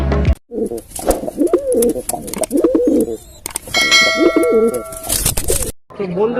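Pigeons coo at the busy Magrahat pigeon market, close and loud. Metallic clangs and dings ring out, and people talk nearby.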